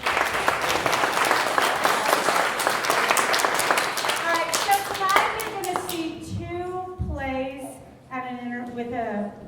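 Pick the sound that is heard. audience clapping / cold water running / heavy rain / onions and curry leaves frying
audience clapping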